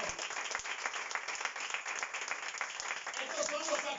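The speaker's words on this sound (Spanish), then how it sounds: "Dale un aplauso al Señor." A church congregation applauds during a Spanish-language service, a dense continuous wash of clapping that fills the whole stretch with a few louder claps standing out.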